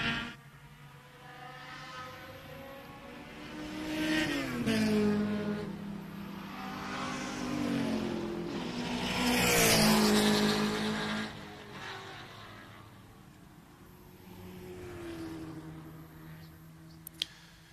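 Front-wheel drive Street Mod race car at a time attack event at Mid-Ohio, its engine note swelling and fading as it flashes across the start-finish line, with harmonic engine tones rising and falling over steady track ambience.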